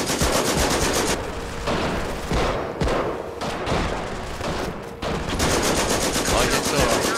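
Loud, sustained machine gun fire rattles through a Company of Heroes battle, dense continuous bursts with brief lulls, close and dominant over the game's background noise.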